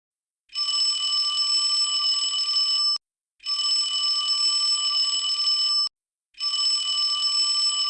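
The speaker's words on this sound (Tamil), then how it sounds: "என்ன ஏதோ அலாரம் அடிக்கிற மாதிரி சவுண்டு கேட்குது." An electronic alarm rings in three long bursts of steady shrill tone, each about two and a half seconds, separated by short silences, loud and clear with nothing else audible.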